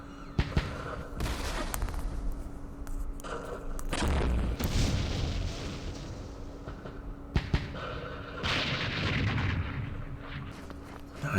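Mortar and artillery fire in the Vietnam war strategy game Campaign Series Vietnam at Dien Bien Phu: repeated booming blasts and rumbling impacts with a few sharp cracks, moderately loud, spaced over several seconds.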